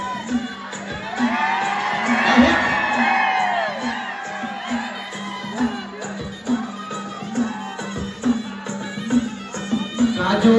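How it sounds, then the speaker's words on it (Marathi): Audience at a Khandeshi artists' award ceremony in Amalner cheers, whoops and claps loudly for an honoree, with swelling shouts and an announcer's voice amplified over a PA at times. "काजूताईसाठी जोरदार टाळ्या"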